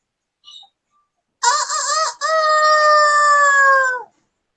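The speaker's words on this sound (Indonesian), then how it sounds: "wah, suara ayam sudah berbunyi" A rooster crows loud and close, two drawn-out harmonic calls with a short break between them, the second long and sliding slightly downward, after a brief faint chirp and with no talk over it.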